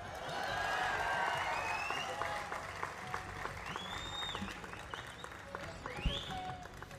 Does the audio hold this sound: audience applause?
yes